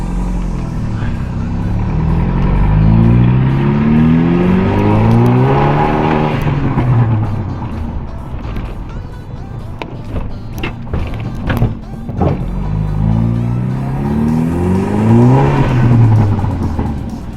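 A turbocharged car engine with a stage 2 tune, big turbo and anti-lag revs hard in repeated rising and falling sweeps, loud and close, with a brief quieter stretch of idling and crackle in the middle.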